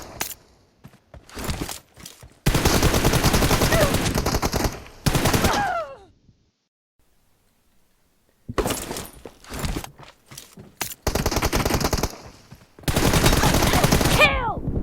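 Automatic gunfire in PUBG Mobile, long loud bursts of rapid shots with single shots and clinks between them and a quiet gap in the middle, followed by more bursts.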